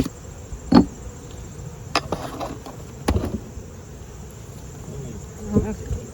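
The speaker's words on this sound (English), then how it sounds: "I'm gonna smoke the bees off of that." A steady buzz of bees at a hive being smoked runs throughout, with scattered sharp knocks and clicks standing out above it at a few moments.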